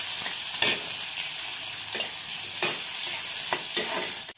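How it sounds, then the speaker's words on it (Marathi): Onion sautéing in a pan with asafoetida gives a continuous sizzle, broken by scraping stir strokes every half second or so. "कांदा चांगला परतून घेऊया आपण."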